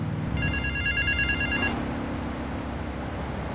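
A telephone rings in the video game GTA III on PC, a bright repeating electronic trill sounding in bursts for over a second, then stopping, over a steady low engine hum of city ambience.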